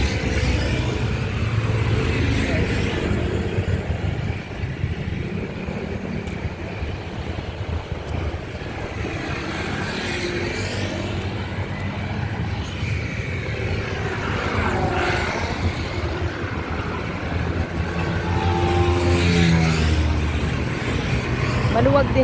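Vehicles speed past on a busy road beside a walking path on Mindanao Extension, their engines whooshing by one after another in rising and falling sweeps, with people talking nearby.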